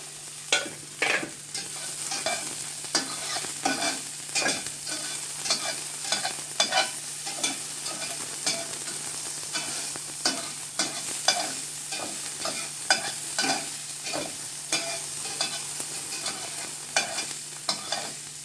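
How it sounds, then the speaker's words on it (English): Scallion and ginger sautéing in a little oil over low heat for a Jamaican-style chicken chop suey, a soft continuous sizzle broken by repeated sharp scraping and clacking strokes of a utensil stirring in the pan, nearby with no talking. "I am going to add scallion and ginger. Just to season the oil."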